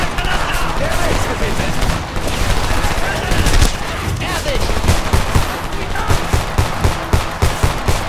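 Rapid pistol fire in the shooter game Homefront, a dense run of sharp repeated shots through most of the stretch, loud and close, with some game noise and a voice mixed in.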